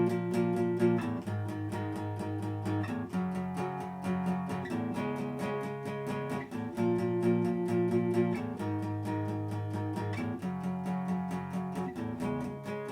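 Guitar strumming a chord progression from a song, steady rhythmic strokes with clear chord changes every couple of seconds, close and alone with no talking.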